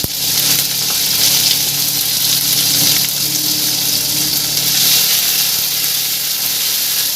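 Cashews, raisins and ginger paste fry in a pan of hot oil, giving a steady, loud, close sizzle with a watery hiss that holds evenly throughout.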